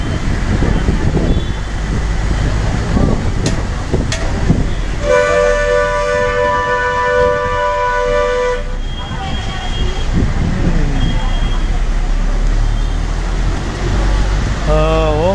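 Bus on the Juvvalapalem route passing along a road, with continuous loud traffic rumble and a sustained multi-tone horn blast in the middle, people talking nearby throughout.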